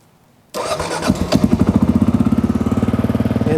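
A Kawasaki KLR650 motorcycle, choke pulled, cranks and starts, its engine catching after about half a second and settling into a loud, steady, close idle with rhythmic pulsing.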